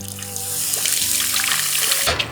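Water pours into a vessel for a Telangana-style fish curry in a steady splashing stream for about two seconds, close and fairly loud, with a faint hum behind it.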